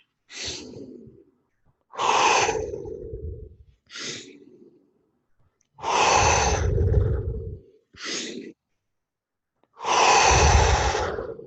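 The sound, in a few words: deep breathing during breath work exercise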